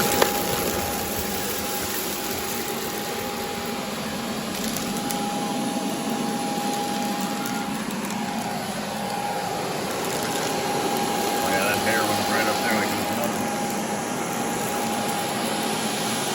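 A Bissell IconPet robot vacuum runs across carpet picking up jelly beans, with a loud, steady motor whine and a constant airflow roar close by that swells slightly partway through.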